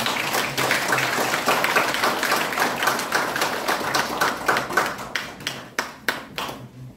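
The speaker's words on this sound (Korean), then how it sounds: "큰 박수 부탁드리겠습니다" Audience applause in an auditorium at a Catholic centre commemorative event, a steady wash of many hands that thins toward the end into a few separate claps before dying away.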